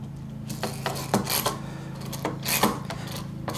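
Old slotted wood screws being dressed in a woodworking shop, a rhythmic rasping and rubbing made of several short scraping strokes over a low steady hum, close and moderately quiet.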